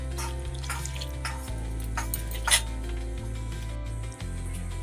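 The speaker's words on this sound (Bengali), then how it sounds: "এবারে এখানে আমি জল দিয়ে দেব।" Water pours steadily into a pressure cooker pot holding kochu shak (taro greens), a continuous close splashing over a low background hum, with no talking.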